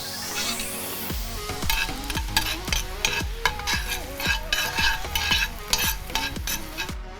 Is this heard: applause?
no